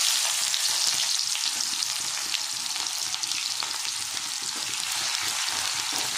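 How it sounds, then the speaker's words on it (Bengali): Chopped onion frying in hot oil for a fish curry gives a steady, dense sizzle that crackles evenly throughout, close and fairly loud, with no voices. "এবার তেলে আমি কুচনো পেঁয়াজ দিয়ে দেব।"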